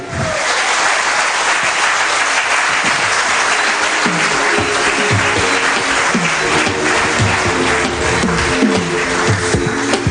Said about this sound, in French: Encore une fois, round of applause pour Ilan Bizasseni.